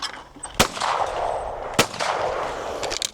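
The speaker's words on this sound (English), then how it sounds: "I'm shooting the clay in the same position every single time. Third pair. Pull." A shotgun fires at a pair of clay targets on a shooting ground, two sharp loud reports about a second apart, each with a short outdoor decay, and no talk over them.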